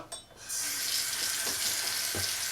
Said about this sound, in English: I'm just going to kind of rinse my nib.